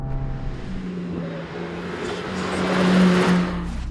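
Mercedes-AMG GT Black Series V8 rated at 730 horsepower on a cool-down lap, a steady moderate engine drone that swells slightly toward the end, heard alone without talk.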